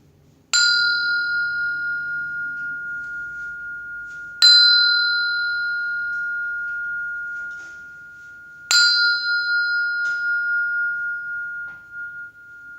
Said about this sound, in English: This is the Tibetan temple bell for purification